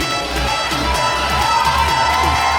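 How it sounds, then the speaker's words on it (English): Dense arena crowd roaring and cheering continuously at a wrestling event in Dallas, loud and echoing off the walls, with a rhythmic low thumping underneath and no clear talk. "You hear the roar of this crowd, you can hear the echoes bouncing off all the auto slams right here in the Big D"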